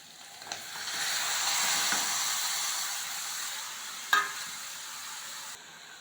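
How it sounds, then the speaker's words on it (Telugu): Tomatoes go into a pan of frying capsicum. A steady sizzle swells and holds, with a brief utensil clink near the end before the sizzle cuts off. "నెక్స్ట్ టమాటో వేస్తాను."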